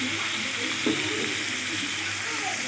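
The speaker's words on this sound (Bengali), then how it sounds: "এই পটলগুলো আমি হালকা লাল লাল করে ভেজে নেব।" Pointed gourd (potol) seasoned with a little salt frying in a pan, giving a steady, soft sizzle close by with a brief stir partway through, with no voice over it.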